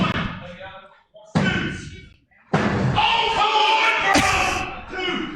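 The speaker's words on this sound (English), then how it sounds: "John Washington lays out Sledge with the belt" Heavy thuds and slams at a live pro wrestling match as a championship belt is swung into a wrestler, with several sharp impacts spread over a few seconds under continuous commentary and crowd noise.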